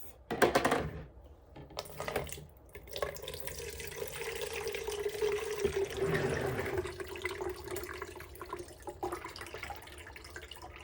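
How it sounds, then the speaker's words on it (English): Pickle juice from a jar of Kool-Aid pickles poured off into a sink, a steady running liquid stream lasting several seconds after a short clatter at the start, close and fairly loud with no talk. "We're going to pour the juices off."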